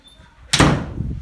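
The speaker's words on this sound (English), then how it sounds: "1 second while I close the door so no one distracts me at all." A door pushed shut indoors, one sudden loud thud followed by a brief rattling decay, alone with no talking.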